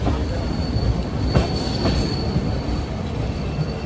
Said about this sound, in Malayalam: ട്രെയിൻ ഇപ്പോൾ കറഞ്ചാടി എന്നൊരു സ്റ്റേഷനിലേക്കാണ് ഇപ്പോൾ എത്തുന്നത്